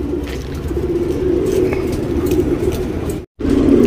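Tournament pigeons coo steadily and close by in a low, continuous murmur, with a brief dropout near the end before the cooing resumes.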